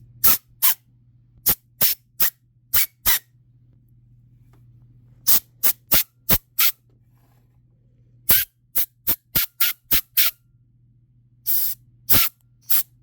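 Sharp squirts of ATF transmission fluid from a spray bottle aimed at a transmission's O-ringed boost valve bore, firing in quick irregular clusters of short bursts over a steady low hum, with no talking.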